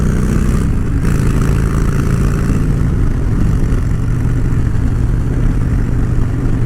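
A motorcycle engine pulls hard under acceleration, loud and close, a dense continuous roar with a steady low throb running the whole stretch, no voices over it.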